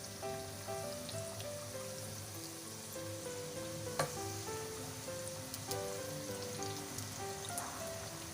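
Soft homemade donuts frying in hot oil, heard as a faint, steady bubbling sizzle with a couple of small clicks, quiet and uninterrupted.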